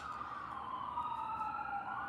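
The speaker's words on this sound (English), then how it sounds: "Look, now I hear ambulance." An ambulance siren wails steadily at a distance, its pitch sliding slowly downward as it passes over a continuous low background rumble.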